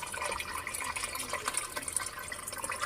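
Water pouring steadily into a cooking pot holding beef and taro, a continuous close splashing, gurgling stream with no talk over it.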